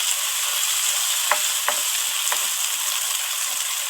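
Chopped small onions and a few garlic cloves fry in about a tablespoon of olive oil as the base for a chicken curry, giving a steady, loud, close sizzle with a few brief stirring scrapes and no talking.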